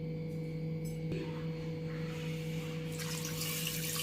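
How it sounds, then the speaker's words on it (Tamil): Water runs steadily into a pot while mutton cooks with turmeric, garam masala and rock salt, a continuous pour over a low hum, close and moderately loud with no talk. "ஒரு சொம்பு அளவுக்கு தண்ணி ஊற்றிக்கலாம்"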